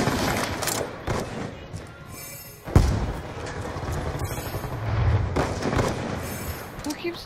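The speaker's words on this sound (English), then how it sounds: "Who keeps throwing concussion grenades at me?" Concussion grenades and gunfire in the shooter game Black Ops 2, a loud boom near the middle over a steady bed of game noise and scattered shots.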